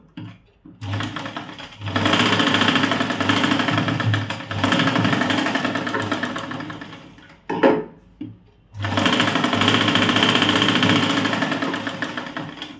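A sewing machine stitches tucks into a blouse, running in three long, steady bursts separated by short pauses. A brief rattle of handling comes in between runs. No voices are heard.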